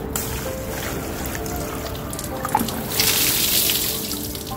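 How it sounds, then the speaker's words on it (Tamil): Water pours steadily onto garden soil trays on a rooftop garden, a continuous splashing and trickling that swells louder near the end, fairly close with no voices. "ஸோ இப்போ வந்து நம்ம தண்ணியை ஊற்றிடலாம்."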